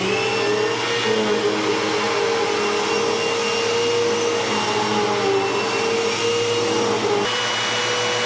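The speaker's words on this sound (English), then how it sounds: "So I'm gonna finish vacuuming here" A Bissell CleanView Helix bagless upright vacuum cleaner with a newly replaced belt running continuously up close, a steady whining motor drone with a slight pitch shift near the end.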